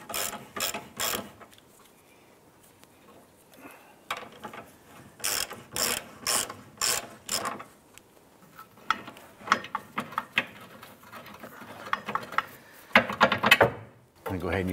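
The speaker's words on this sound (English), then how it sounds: "Using a 15 millimeter socket, we're gonna go ahead and use our breaker bar to go ahead and loosen this bolt." Breaker bar with a 15 mm socket working a bolt loose on a 2001-2007 Ford Escape lower control arm, a series of close ratcheting clicks in short bursts separated by quiet pauses.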